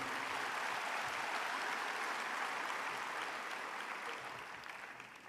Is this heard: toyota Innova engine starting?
no